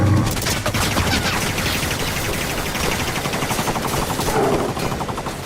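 Rapid gunfire rattles in the Halo 5 video game, dense overlapping bursts of automatic shots running continuously and loud throughout.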